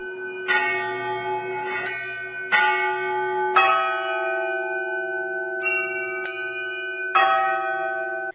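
Bells of the Lipovan church in Cernavoda ring out, several bells struck in an irregular pattern with strong metallic strikes and long overlapping hum, fairly close and loud.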